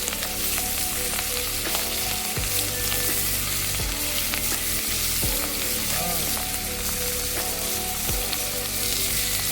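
Fish coated in masala fries on a hot tawa with a loud, steady sizzle that fills the scene, broken now and then by the scrape of stirring and turning.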